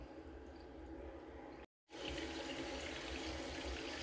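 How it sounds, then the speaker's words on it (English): Water runs steadily from a hot tap after a newly replaced water heater is turned on, a continuous rushing flow broken by one brief silent gap, then surging back slightly louder as air clears from the line. "Now that the water is on, we find the furthest hot from the tank and we turn it on."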